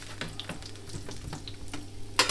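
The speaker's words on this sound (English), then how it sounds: "Listen to that sizzle." Quiet, steady sizzling of potatoes roasting in a hot roasting pan, with scattered crackles and pops and a brief louder hiss near the end.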